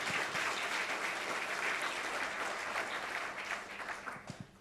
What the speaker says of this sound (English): One more big round of applause, please.